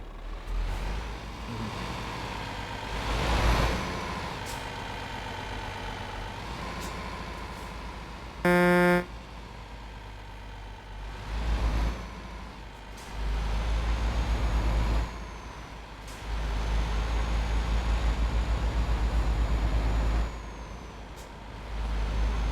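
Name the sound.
truck engine in Euro Truck Simulator 2 video game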